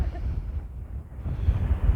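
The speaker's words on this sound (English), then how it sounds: "But it's really windy." Low, rumbling wind buffets the microphone steadily for a couple of seconds on a hilltop on Canna Island, Scotland, with no voices.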